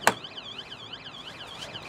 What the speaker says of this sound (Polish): Są różne syreny.